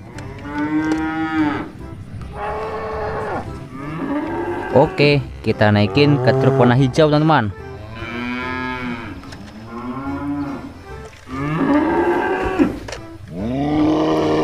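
Fat, colourfully decorated cattle moo repeatedly, loud and close, while being loaded onto green trucks for a cattle contest, with someone talking between and over the calls.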